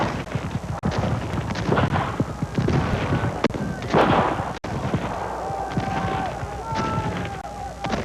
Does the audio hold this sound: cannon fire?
yes